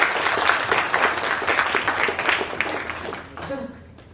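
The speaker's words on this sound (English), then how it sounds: "Round of applause for Harmeet" An audience at a panel discussion claps for a participant, a dense burst of many hands lasting a few seconds, loud and close, tapering off as a voice comes in at the end.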